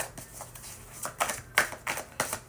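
Tarot cards shuffled by hand in a run of crisp, rapid riffling bursts, each lasting a fraction of a second and repeated steadily, fairly close and alone with no voice.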